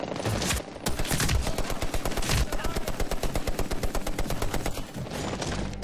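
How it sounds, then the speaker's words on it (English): Automatic gunfire rattles in rapid, even bursts in the first-person shooter Medal of Honor: Warfighter. The shots are loud and close and run almost without a break, with a faint voice underneath. "I can shoot through a little hole and kill them."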